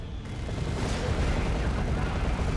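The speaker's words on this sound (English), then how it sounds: "Assault Cannon Barrage on the right lance, almost wiping it out." Assault Cannon Barrage in the strategy game Dawn of War 2, a steady, heavy roar of rapid cannon fire and booming impacts filling the whole moment, loud and constant with no voices.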